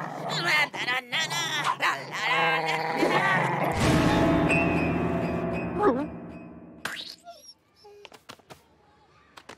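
An animated dog in a French cartoon yips, whimpers and barks in a long excited run close by, mixed with busy voices and cartoon sound effects, trailing off into a few short yelps near the end.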